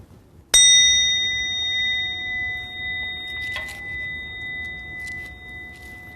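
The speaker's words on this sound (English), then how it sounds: "I'm just going to ring the bell, and that's going to begin a 3-minute meditation." A single strike of a meditation bell rings out clearly to start a session, its pure tone sustaining and slowly fading over several seconds in a quiet room.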